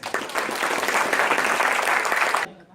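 Audience applause at a church play, a dense burst of clapping that fills most of the moment and then stops abruptly near the end.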